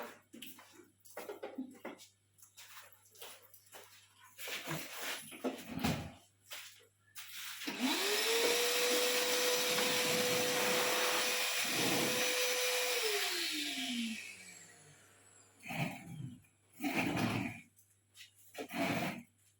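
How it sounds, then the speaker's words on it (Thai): A car vacuum cleaner with a single mode runs loudly for about five seconds, its steady motor whine holding a constant pitch before winding down, with voices talking briefly before and after. "เครื่องดูดฝุ่นในรถเนาะ เป็นโหมดเดียว"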